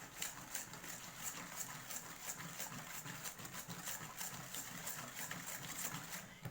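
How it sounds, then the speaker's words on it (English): Egg yolks, corn flour and caster sugar whisked together by hand for a vanilla custard filling, giving a fast, steady rhythm of close scraping strokes that runs unbroken throughout. "just whisking our eggs, our egg yolks, our corn flour, and our caster sugar together"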